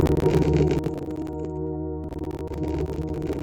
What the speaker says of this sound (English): Soft organ piano sounds like this.